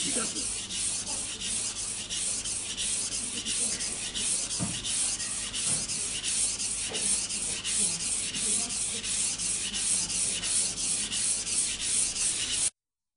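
Continuous rhythmic scraping of a Global knife drawn repeatedly across a whetstone, close and steady, with brief knocks partway through.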